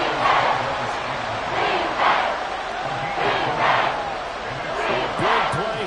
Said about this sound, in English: the crowd noise rises